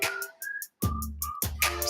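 A whistled melody in a song being mixed: short bright whistle notes in a bouncy phrase over a thumping beat, clear and up front with no talking.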